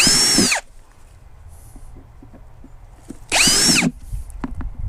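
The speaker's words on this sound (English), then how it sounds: "All right, so just a quick drill." Two short bursts of a power drill whirring at high speed, each about half a second, separated by quiet handling noises and light clicks.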